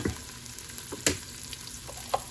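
Whole spices (black cumin, cumin, bay leaves, cinnamon and cloves) sizzle steadily in a hot pan for chicken biryani, a close, continuous frying hiss broken by a few sharp clicks from stirring.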